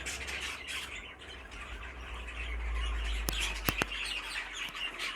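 A Fife canary cock bird gives a few sharp, squawky chirps over a busy background of other birds chattering in an aviary, with the calls close and fairly loud.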